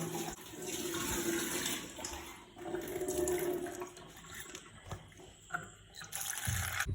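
Water pours over 1.5 cups of chickpeas set to soak for the night, a fairly quiet continuous gushing flow that tapers off near the end before a final splash.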